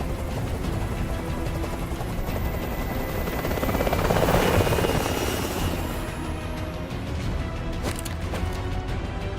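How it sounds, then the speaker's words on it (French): A video game helicopter's rotor thrums loudly and continuously, swelling slightly in the middle as if passing close overhead. "Faites dégager cet hélicoptère"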